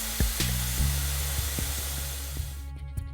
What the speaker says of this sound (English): Carefully loosen the compressed air line on the suspension strut until you hear the sound of air escaping.